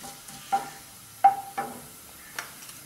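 Fennel seeds and black pepper tempered in hot oil for egg biryani, giving a few short crackling pops and brief sizzles at the start of a Tamil home cooking session, fairly quiet with gaps between bursts.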